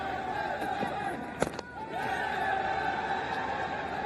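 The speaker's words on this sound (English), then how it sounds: "The Nepalese crowd, the volume's going up." Nepalese crowd at a cricket match between Nepal and Australia roars in a continuous wash of cheering and chatter, with a few sharp shouts standing out midway, distant and sustained throughout.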